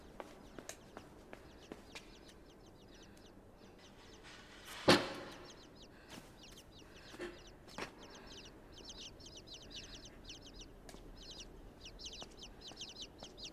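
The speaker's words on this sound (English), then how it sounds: "See, these are birds" Chickens cluck faintly in the puzzle platformer Inside, with scattered soft clucks and short calls over a hushed outdoor ambience, one sharper thump in the middle and light rustling footsteps.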